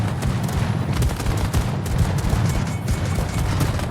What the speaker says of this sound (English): I'm going to shoot some flags down for the team.